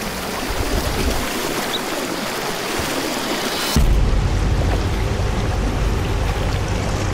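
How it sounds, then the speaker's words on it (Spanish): The fast-flowing Mara River in Africa rushes steadily, a loud, dense roar of moving water that continues throughout with no voices. "Este río fluye de forma permanente y rápida."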